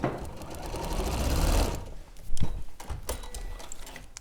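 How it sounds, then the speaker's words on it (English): A sewing machine stitches a quilt section in a steady, dense run for about a second and a half, then stops, leaving a few soft handling clicks and bumps close by. "I'm going to sew section 5 into place"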